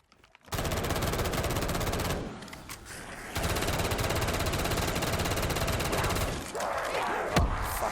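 Sustained LMG machine gun fire in Call of Duty Zombies, loud and continuous automatic bursts with a short lull near the middle before the firing resumes, no voices over it.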